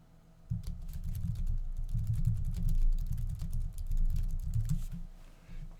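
Rapid, irregular keystrokes on a computer keyboard as a git commit message is typed, close and moderately loud, with a low hum underneath and no talk.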